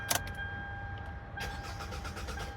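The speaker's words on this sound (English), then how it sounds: "All right, it's a crank no start" A Hyundai Elantra's starter cranks the engine without it catching, a faint rhythmic churning that follows a quick click and continues in the second half under a faint electronic chime tone.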